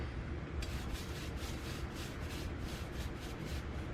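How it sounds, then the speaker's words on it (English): A Scotch-Brite pad scrubbing a Stihl FS91 trimmer's Renegade blade, rapid rhythmic rasping strokes repeating steadily, close and fairly quiet. "For the stuff that don't come off with the brush, I'll take Scotch-Brite to it."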